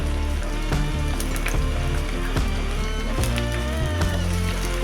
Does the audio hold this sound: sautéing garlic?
yes